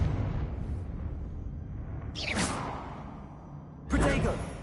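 A Confringo blasting spell goes off in a Harry Potter video game, with two separate whooshing explosive bursts rising out of a low rumbling background, the second one louder.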